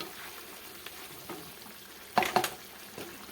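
A spatula stirring fried paneer and boiled chana in a pan over a soft frying crackle, with a couple of louder scraping knocks near the end.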